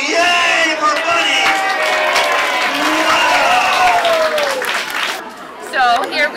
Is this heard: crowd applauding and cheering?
yes